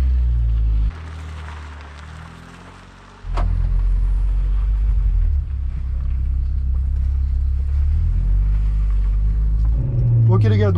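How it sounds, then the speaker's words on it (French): Renault Clio 3 RS with its F4R engine and Scorpion exhaust line, a deep steady engine drone that drops briefly, then swells back loud and sustained as the car pulls away, with a sharper rise near the end. "Comme vous l'entendez, ce F4R chante pas mal, il est équipé de la ligne Scorpion."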